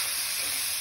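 Onion frying in a pan until golden for chicken keema, a steady close sizzle and hiss running continuously with no pauses.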